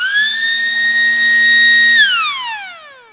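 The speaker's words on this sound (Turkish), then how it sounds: "Siren çalacak birazdan." A window alarm siren on a window frame goes off with a loud, steady electronic tone that holds for about two seconds, then sweeps downward and fades.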